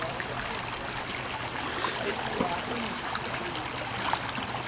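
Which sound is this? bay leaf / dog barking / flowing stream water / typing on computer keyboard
flowing stream water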